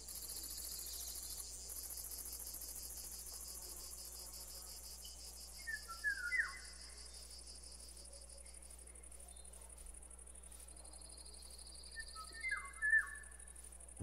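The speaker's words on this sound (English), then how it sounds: "that bird sounds and mosquitoes and insects and everything, that's part of this mod pack" Modded Minecraft ambience plays a steady high insect drone of crickets and buzzing, with two short bursts of bird chirps and whistles partway through. The sound is fairly soft and there is no talk.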